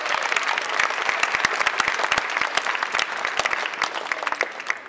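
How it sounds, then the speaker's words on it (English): Indoor audience gives a loud round of applause for a Welsh contemporary artist, many close hands clapping with distinct individual claps over a dense, even roar. "Can we give Ivor a big round of applause?"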